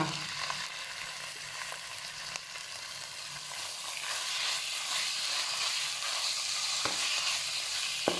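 Pork belly fries in a pan on high heat for a Thai red curry stir-fry, giving a continuous, dense sizzle that holds steady and swells slightly, close by, with a few faint clinks of stirring and no talking.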